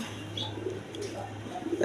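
Pigeons, a breeding pair of rasgolla pigeons at a farm, give soft low coos under steady background hum, fairly faint and continuous.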